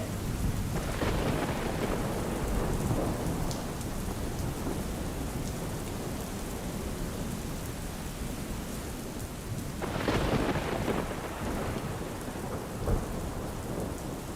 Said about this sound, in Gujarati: સુરત શહેરના અનેક વિસ્તારોમાં વરસાદ યથાવત છે